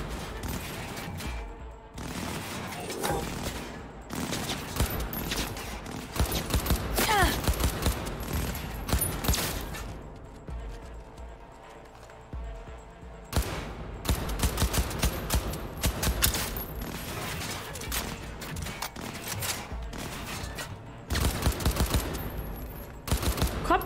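Bursts of gunfire from a shootout in the video game Cyberpunk 2077, rapid volleys and automatic fire loud and close, broken by brief lulls, with speech faintly mixed in.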